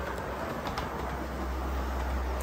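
A Norfolk Southern model train runs steadily on a layout, giving a continuous close rumble and rolling whir with no pauses throughout.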